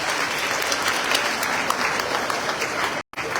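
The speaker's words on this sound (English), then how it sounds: "Give them another round of applause." Sustained, dense applause from a large crowd at a summer graduation ceremony for Lincoln Tech graduates, a steady roar of many hands clapping that cuts off abruptly near the end.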